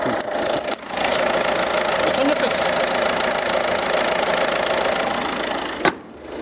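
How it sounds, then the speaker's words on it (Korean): A 2017 Citroen Grand C4 Picasso engine runs at a steady, slightly knocking idle, close and fairly loud, with a brief dip near the start and a sharp thump and drop just before the end. "이제 엔진음 한번 들어보겠습니다"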